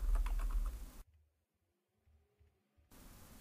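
Quick clicking keystrokes on a computer keyboard at a desk, fairly close and crisp, in a short burst at the start, then near silence with a few faint taps before the background noise returns.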